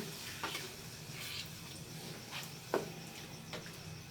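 A spoon stirs sarson ka saag in a pot over the heat, with a faint sizzle underneath and several distinct scraping clunks at irregular intervals, one sharper knock standing out midway.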